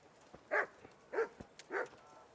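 A dog barking in Kingdom Come: Deliverance, in the town of Rattay: three evenly spaced, moderately loud barks, each short and clear, with a quiet background and no talking.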